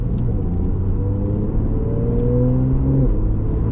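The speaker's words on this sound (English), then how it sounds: "You can hear a little bit more of the exhaust coming from the back." A low, steady engine drone with a deep exhaust rumble from a Porsche 911 Targa 4S (991.2, PDK), heard from inside the car, rising slightly in pitch as it accelerates.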